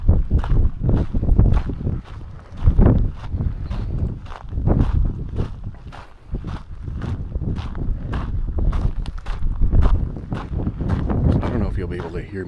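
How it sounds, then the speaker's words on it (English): Strong wind buffets the microphone at a volcano lookout reached by a hilltop walk, a loud continuous rumbling roar with gusts throughout, and a voice talks over it. "I don't know if you'll be able to hear me over the wind"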